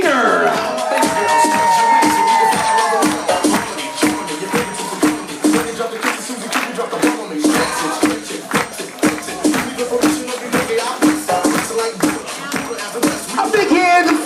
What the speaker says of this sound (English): A big round of applause for Melissa Loco and Brian Trainer.